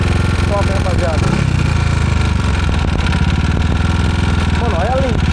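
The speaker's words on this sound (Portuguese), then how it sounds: "Tava na lenta, rapaziada, essa moto." A motorcycle engine idling steadily after its first start, a low continuous mechanical hum with a steady throb throughout, while voices talk over it.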